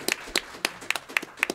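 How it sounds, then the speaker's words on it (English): A few people clap by hand at a discussion event on rising above hate, about seven sparse, separate claps in an uneven rhythm, close and moderately loud. "Let's give a round of applause."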